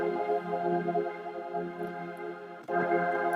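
A choir-like synth voice patch holds sustained chords that shift midway, with a brief dip before the tone swells back in.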